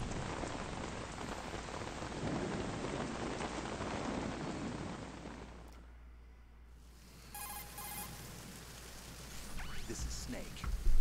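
Heavy rain hisses steadily in the opening of Metal Gear Solid 2, a dense wash that drops away briefly midway, then returns with faint tonal game sounds and a louder swell at the end.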